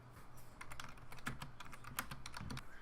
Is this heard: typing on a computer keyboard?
yes